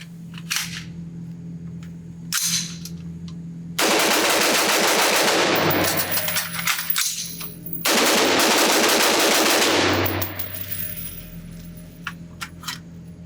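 A Colt M5 carbine fires at a shooting range in a few separate sharp shots, then two long, rapid strings of loud, close gunfire.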